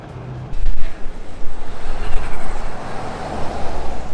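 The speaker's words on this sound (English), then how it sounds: "you can hear the turbo spooling, you get a bit of turbo whistle" Turbocharged 2.3-litre Ford engine in a Twisted Land Rover Defender revs while driving, a loud rising rumble with road and wind noise; any turbo whistle is buried in the engine roar.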